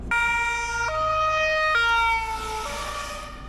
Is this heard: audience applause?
no